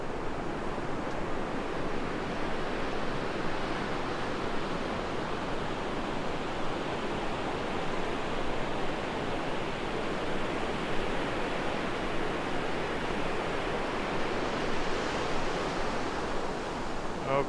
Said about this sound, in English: Waiting for the big wave.